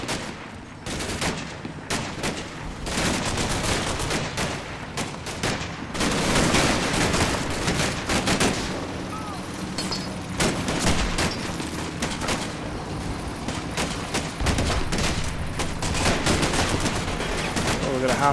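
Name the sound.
gunfire in Combat Mission video game infantry fight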